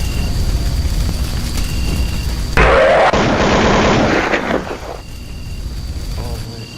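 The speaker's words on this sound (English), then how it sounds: "he just shot her everywhere" Gunfire in an analog horror game about the big bad wolf, a sudden loud burst of rapid shots lasting a couple of seconds over a murky, noisy background, with speech nearby.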